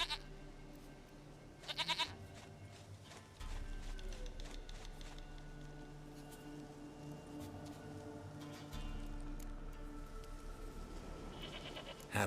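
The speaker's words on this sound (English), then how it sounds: "Goat of mine, dearest, sweetest goat." A goat in The Witcher 3 gives repeated bleats, close and clear over soft rain and ambient game sound.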